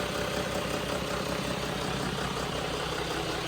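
A John Deere marine diesel with a freshly gasketed, repaired turbo runs at a steady idle, a continuous even drone with a faint high whine above it and no talk.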